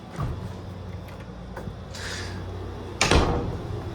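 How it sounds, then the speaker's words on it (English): An indoor door is pushed shut, giving a soft slide followed by a firm, close thud near the end over a low steady hum. "Make sure I close this door actually."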